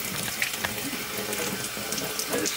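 Cold water sloshing and splashing inside a tube being filled and swirled to loosen rust from a pinball machine leg, a steady running, rushing wash of water close by with no talking.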